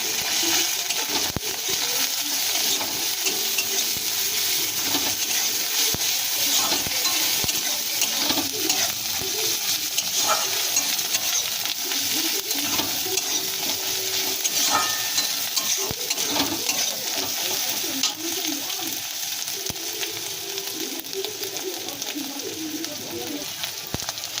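Loitta (Bombay duck) fish frying in a pan with turmeric and chili powder as it is stirred, a steady loud sizzle with scraping stir strokes running throughout, no talk.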